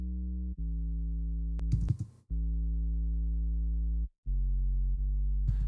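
A synth pop bass synthesizer in Logic Pro plays sustained, pure low notes with a rich stack of harmonics, cut by brief gaps and a short noisy burst, with no voice over it.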